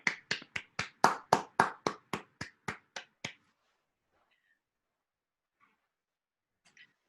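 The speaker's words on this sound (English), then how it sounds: "Round of applause, everybody." A small theater audience gives a round of applause at the end of a play, with about a dozen crisp, rhythmic claps close by that stop abruptly, followed by near silence and a few faint ticks.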